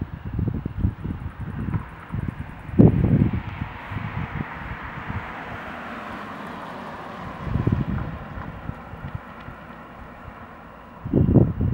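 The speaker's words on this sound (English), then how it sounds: "Now this wind is not helping." Gusty wind blows across open ground near a growing wildfire in a canyon area, a steady rushing roar with louder buffeting bursts striking the microphone every few seconds.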